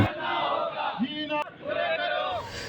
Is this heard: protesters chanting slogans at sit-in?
yes